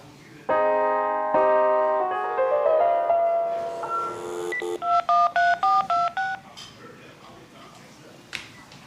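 Telephone keypad dialing in a radio drama: a series of distinct DTMF tone beeps, some held longer and some in quick short bursts, loud and clear with no talk over them.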